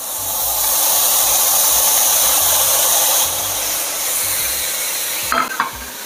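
Onions hit a hot pan of browned bacon for tartiflette, setting off a loud, hissing sizzle that holds steady, then eases slightly, ending with a few sharp clatters of a utensil.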